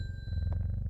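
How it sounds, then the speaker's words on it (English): A single bell rings in a video game, a bright sustained tone over a low hum that lasts about a second. "Ring the bell."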